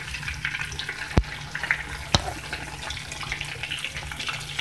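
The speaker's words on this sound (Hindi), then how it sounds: "अब देखें फ्राई हो रही है" Tandoori-spiced fish frying in a pan gives a steady, close hiss of sizzling oil, broken by two sharp crackles or pops.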